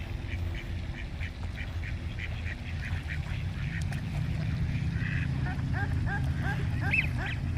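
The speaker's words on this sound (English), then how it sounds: "Let's check out all the ducks over here." Ducks quacking in repeated short calls outdoors near water, moderately close, over steady broadband ambient noise with a low rumble.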